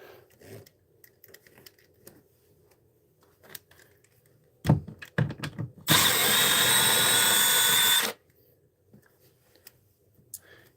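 A cordless drill fires a few short clicks and bursts, then runs at one steady high whine for about two seconds before stopping, with quiet handling noise around it.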